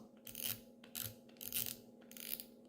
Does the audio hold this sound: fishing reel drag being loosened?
yes